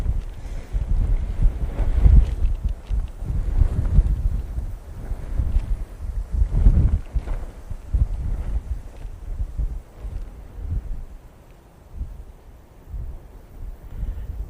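Strong wind buffets the microphone at Manchester Airport in continuous low rumbling gusts, with heavier surges around two and seven seconds before easing slightly toward the end; no speech.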